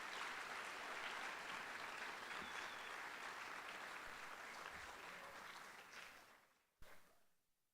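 A school audience applauds at a freshman academic awards ceremony, full steady clapping that fades out near the end, followed by a single sharp knock.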